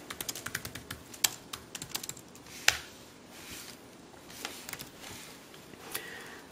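Rapid clicks of a computer keyboard as a command is typed into a terminal emulator, a close burst of keystrokes with a louder tap midway, then quieter scattered taps over faint room noise.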